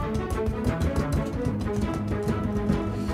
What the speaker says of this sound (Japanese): 短くするとショートリバーブですね。